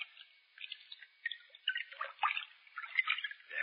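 Someone stepping into bathtub water in a radio drama sound effect, a series of small splashes, drips and sloshes close by, with thin, band-limited sound and no talk.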